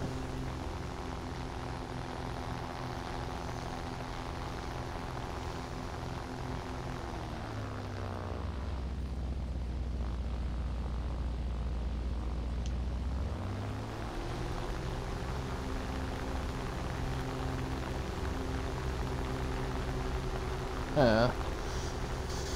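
A float plane's propeller engine drones in a video game, loud and steady, dipping to a deep low rumble midway as the throttle is cut before rising again, with a short burst of other sound near the end.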